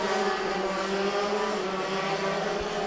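Racing karts on a paved circuit at Adams Motorsports Park, engines screaming steadily as they power out of a turn and down the straightaway, a dense continuous roar with no talk.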